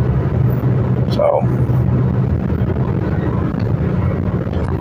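Passenger bus in Manila interior while riding: a steady low engine and road rumble fills the cabin continuously, fairly loud, with a person's voice speaking briefly over it.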